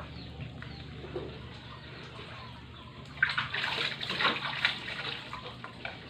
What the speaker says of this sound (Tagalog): Hugasan natin yung ating mga ano.